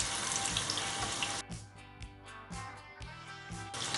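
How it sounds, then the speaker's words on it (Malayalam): Papadum frying in hot oil, a quiet, steady sizzling hiss with soft crackling pulses, heard alone without talk. "ഇനി ഇത് ഫ്രൈ ചെയ്തെടുക്കാൻ പോവാണ്"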